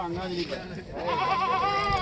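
A goat with three kids bleats close by in wavering, quavering calls at a village goat market, with people talking in the background.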